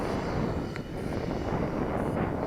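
Freewing Venom V2 RC jet plane flying past, a steady whooshing engine roar with wind buffeting the microphone throughout, fairly constant in level with no voices.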